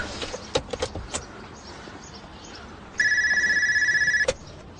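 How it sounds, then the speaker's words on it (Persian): A telephone rings loudly with a steady electronic trill that lasts about a second and a half, coming after some scattered knocks and rustling in a room. It cuts off abruptly. "چرا کسی به تلفن جواب نمیدهد؟"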